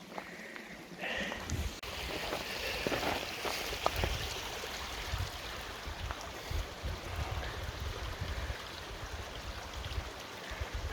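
Trout Creek flows with a constant soft rushing and bubbling, moderately close, with a few faint knocks and rustles over the water.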